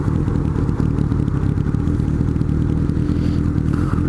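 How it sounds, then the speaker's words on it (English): A Honda Nighthawk motorcycle engine runs in a steady, loud, close rumble with fast regular pulses and some mechanical clatter throughout. "It's a motorcycle again."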